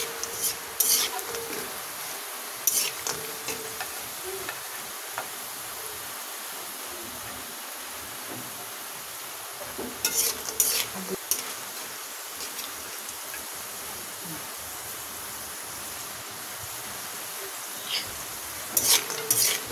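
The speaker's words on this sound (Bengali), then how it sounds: "মাঝে মধ্যে উল্টা পাল্টা করে লাইড়ে দিবেন যাতে সব দিকটা ভালো করে ভাজা হয়" Nimki dough pieces fry in hot oil with a soft, continuous sizzle, broken by occasional clinks and scrapes as they are turned and stirred in the pan.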